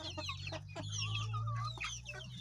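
Several hens cluck close by in a quick, overlapping series of short calls over a low steady hum, lively and continuous for a couple of seconds.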